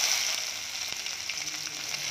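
Dried red chillies and chopped ginger fry in hot oil, a steady, close sizzle with faint crackles and no voices.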